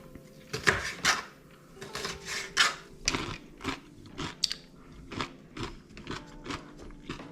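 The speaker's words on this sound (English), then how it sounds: "This knife isn't very sharp, so this I'm gonna drag it" A dull kitchen knife drags and saws through a bell pepper on a cutting board, giving a series of close, crisp crunching and scraping strokes in an uneven rhythm, with no talking.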